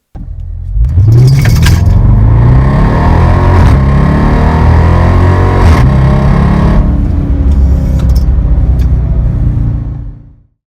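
A Dodge Charger accelerates hard from a standstill, its engine note rising through several gear changes, loud and close, before cutting off near the end.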